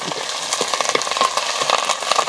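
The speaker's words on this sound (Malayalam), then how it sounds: "മുളക് എല്ലാം കൂടി ഒന്ന് മൂപ്പിക്കാം അല്ലേ" Red chillies and curry leaves fry in a pan of hot oil, giving a steady, close crackling sizzle with small pops throughout, and no voices.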